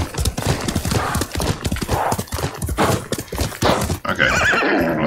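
Horse hooves clip-clop steadily up close in the Ghost of Tsushima video game, with a loud whinny near the end; a voice speaks briefly over them.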